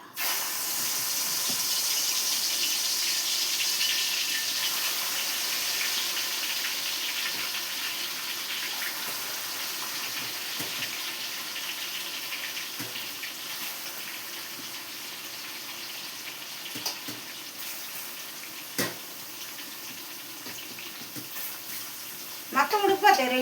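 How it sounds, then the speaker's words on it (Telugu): Prawns frying in hot oil give a steady loud sizzle that slowly fades over about twenty seconds, with a few brief clatters near the end. "ఇది ఆయిల్లో ఫ్రై చేసేద్దాం"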